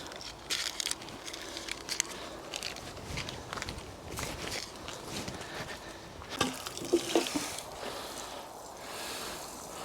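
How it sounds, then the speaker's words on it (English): Water splashing and pattering onto freshly sown vegetable seed rows in a garden, with irregular close bursts, drips and crackles and some shuffling movement nearby. "Just need to water that now and keep it moist."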